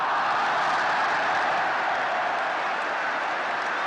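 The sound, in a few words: large cricket crowd applauding a boundary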